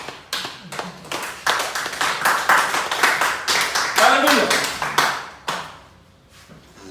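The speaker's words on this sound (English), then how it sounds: "give a big clap to God" Church congregation clapping in a dense, rapid patter through most of the stretch, mixed with voices and singing, then fading to quiet near the end.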